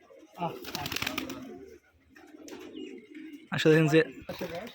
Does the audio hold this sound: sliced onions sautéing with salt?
no